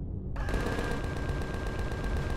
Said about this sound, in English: Miniguns are so good for taking these guys out.